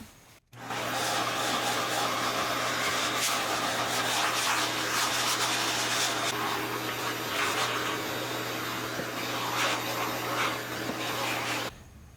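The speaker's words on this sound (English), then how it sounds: "I think I'm going to grab the vacuum." A vacuum cleaner runs steadily at close range while cleaning a Peavey Bandit guitar amplifier under restoration, a loud continuous whooshing drone with a low hum, starting abruptly and cutting off near the end.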